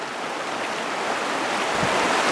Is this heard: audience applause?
no